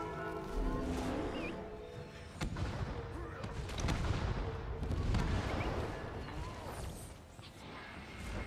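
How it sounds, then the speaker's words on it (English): Cannons firing in Guild Wars 2 PvP combat: repeated heavy booms and blasts rolling through a dense battle mix, with game sounds layered underneath. "Fire all cannons."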